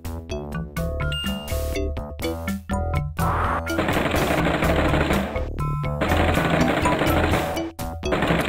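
In the video game Lode Runner: The Legend Returns, a drill digs through a mine-type level with long, loud, grinding bursts of buzzing noise, layered over chiming, tinkling game music.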